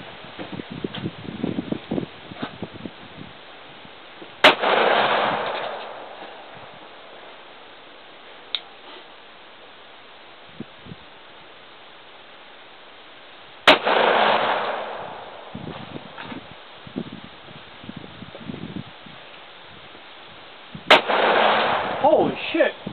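.40 caliber handgun fired outdoors, three sharp loud gunshots spaced several seconds apart, each followed by a short echoing boom, with quiet talk and small noises in between.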